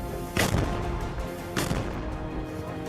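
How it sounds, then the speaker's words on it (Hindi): A grenade launcher fires twice in a combat zone during Hamas fighting, each shot a sharp, heavy boom with a rumbling tail, spaced a little over a second apart. "इस ग्रेनेड गन के अंदर ग्रेनेड लगाते हैं और फायर कर देते हैं।"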